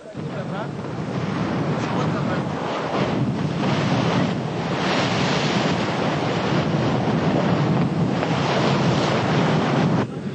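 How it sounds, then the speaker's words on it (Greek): Sea waves surging and a strong north wind buffeting the microphone during a 52 km non-stop open-water swim across the Toroneos Gulf, a steady, loud wash of surf and gusting wind roar throughout with no voices. "Ο βόρειος άνεμος αύξησε την έντασή του. Τα κύματα φούσκωσαν"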